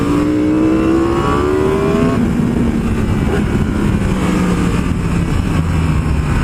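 A Yamaha R1M motorcycle accelerates uphill on a mountain road, its engine whine climbing in pitch, dropping at a gear change, then climbing again, loud and close under steady wind rush.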